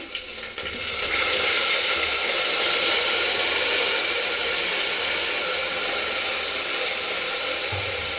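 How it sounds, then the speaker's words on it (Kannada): Tomatoes go onto roasted onions in a pan for okra sambar, raising a loud, steady, close sizzling hiss that swells after the first second and holds evenly throughout. "ಈರುಳ್ಳಿ ರೋಸ್ಟ್ ಆಗಿ ಟೊಮೊಟೊನ ಹಾಕ್ತಾಯಿದ್ದೀನಿ."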